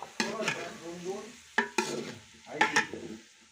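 Sabudana khichdi with potatoes stirred in a pan, with several distinct scraping sweeps in irregular bursts, close and moderately loud, with no talking.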